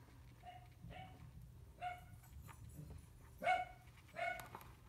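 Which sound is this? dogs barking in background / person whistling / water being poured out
dogs barking in background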